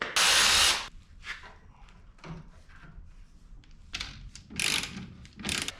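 Ratchet tools clicking and working loose the intercooler on a Honda CRX, with several bursts of ratcheting and mechanical clatter close by, separated by quieter moments of handling parts.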